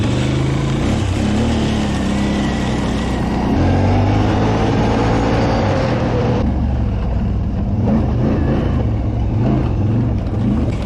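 A vehicle passes during an ATV ride, heard as a loud, steady engine drone with a shifting pitch that swells around the middle of the stretch and then carries on close by.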